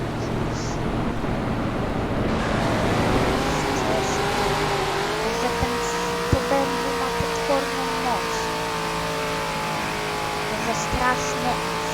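Sports car engine in the Roblox ramp-jumping game, a steady droning hum with rising and shifting pitch as the car accelerates, joined by a few sharp thuds and clicks, under continuous background game noise.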